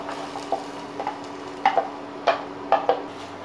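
Chickpeas stirred and fried in a pan with chopped onion, garlic, green chili and coriander leaves for a simple chola bhuna: a soft, steady sizzle broken by several scraping stir strokes, close up, with no talking.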